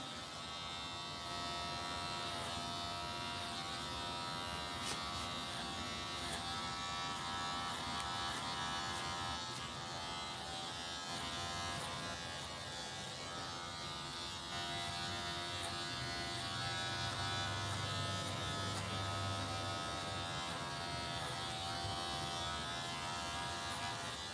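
Electric hair clippers fitted with a number two guard buzz steadily through a low taper fade haircut, a constant close-up hum with slight shifts in pitch as the blade moves through hair.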